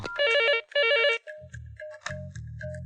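A telephone rings with bright electronic bell-like bursts, two strong rings at the start followed by softer repeating tones, close and clear with no talking.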